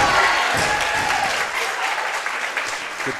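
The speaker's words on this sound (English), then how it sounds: "Good clap there for herself." A woman weightlifter at a Masters World Cup weightlifting session claps for herself after a lift, with rapid, close hand claps over a few seconds and some crowd noise beneath.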